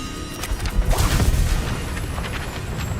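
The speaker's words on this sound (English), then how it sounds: "The book exploded." A book exploding in Hogwarts Legacy: a loud, booming burst with crashing debris that swells within the first second and then settles into a rumbling tail.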